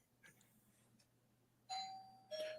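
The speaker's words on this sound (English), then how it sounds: "That is definitely my doorbell." A doorbell rings twice in a quiet home, two clear chime tones sounding a little way off, with faint room hiss before them.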